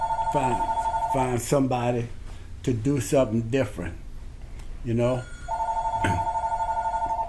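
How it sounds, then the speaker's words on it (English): A landline telephone rings in a home, its steady electronic warble starting near and loud, pausing under a stretch of conversation, then resuming clearly as the talk continues. "that's our phone ringing"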